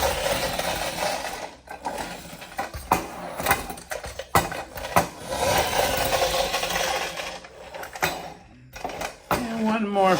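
A friction-powered Astro Boy Mighty Atom Jet toy motorcycle whirs and rattles in repeated bursts, close and fairly loud, with a voice talking over parts of it.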